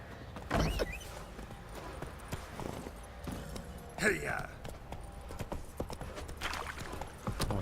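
A horse's hooves clip-clop in The Witcher 3 on a bugged mount: irregular, fairly close thuds and clops with a sharper louder step or two, along with other game noises.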